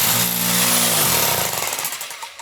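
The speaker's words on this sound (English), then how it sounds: "So this is called a mini jackhammer. You squeeze the trigger." A mini jackhammer rattles loudly and steadily up close as it digs into the dirt beside a 200-year-old home, then winds down and stops.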